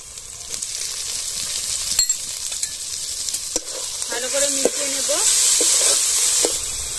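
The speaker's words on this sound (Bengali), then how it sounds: "মশলা কষিয়ে নিয়েছি, দেখুন এইভাবে করে মশলা কষাতে হবে" Chopped tomato and chili powder sautéing in a pan for ghugni give a continuous sizzling hiss with occasional spoon clinks and scrapes, a brief tonal squeak of stirring midway, close up with no speech.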